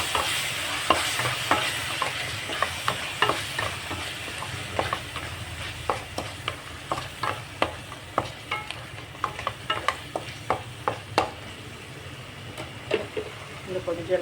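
Minced meat and tomato frying in a pan with a steady sizzle, punctuated by frequent sharp scrapes and clacks of a spoon stirring, close and continuous.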